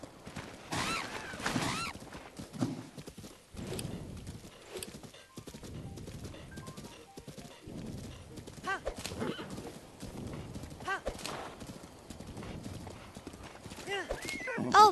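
Rhythmic clip-clop of galloping hooves runs throughout, with a horse whinnying and a person talking over the steady hoofbeats, from the video game Zelda: Breath of the Wild.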